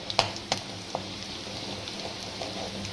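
Cumin seeds sizzle softly in hot oil, with a few sharp pops and crackles at first, then a quiet continuous hiss.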